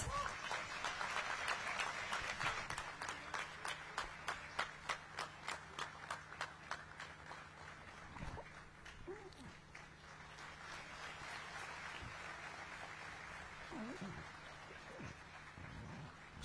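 Convocation audience at Rashtriya Raksha University applauding, a dense steady wash of many hands that thins into rhythmic claps, then fades to scattered claps over low room hum and murmur.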